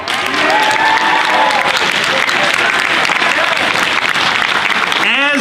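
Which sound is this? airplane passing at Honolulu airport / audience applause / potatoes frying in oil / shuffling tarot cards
audience applause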